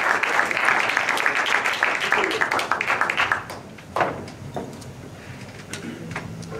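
A live concert audience applauds the harmonica player, dense clapping that tapers off after about three seconds into scattered claps and a few voices.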